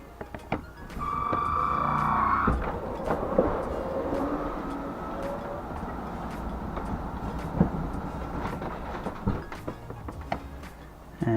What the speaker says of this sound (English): it looks like we're ready to pull the slides in